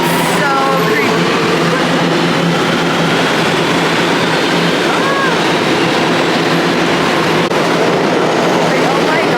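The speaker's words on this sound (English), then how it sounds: "Subway station is actually so scary." Train rolling through a New York City subway station, a steady loud rumble and rail noise filling the whole stretch, with faint squeals and brief voices mixed in.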